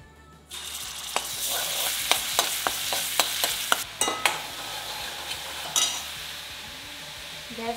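Vegetables sizzle in hot oil in a kadai. A loud frying hiss starts suddenly, and repeated clinks of a spoon stirring against the pan sound through it at close range.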